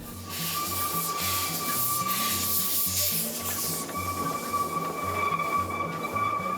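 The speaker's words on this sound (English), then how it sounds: "it's not every day you get to jump onto a real steam train and go for a good ride" Steady rumbling of a moving steam train at Timbertown, with rhythmic clatter of wheels on track, a continuous hiss of steam and a high whistle-like tone throughout.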